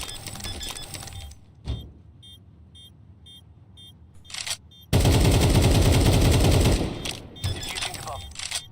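Gunfire in Counter-Strike 2: a loud sustained automatic burst dominates the second half, after scattered single shots and quieter game sounds, with a brief voice near the start.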